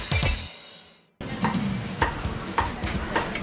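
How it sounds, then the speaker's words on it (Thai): A cleaver chops pork leg on a wooden cutting board in the kitchen of a pork-leg rice shop, landing sharp, evenly spaced thuds about twice a second over kitchen background noise after a brief pause. "เสียงสับขาหมูจากเขียงภายในครัวของร้านข้าวขาหมูพอ4"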